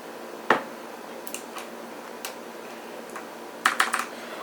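Sharp clicky keystrokes from a Redragon mechanical keyboard with blue switches: a single loud click, a few scattered taps, then a quick cluster of clacks near the end, close and otherwise quiet.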